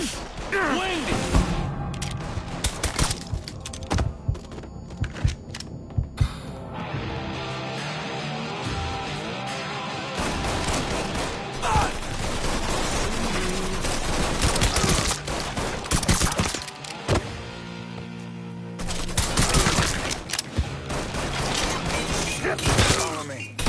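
Gunfire in the video game Mafia III, with bursts of automatic shots and single cracks scattered through a busy mix of game sound, broken by brief lulls. Voices speak at points throughout.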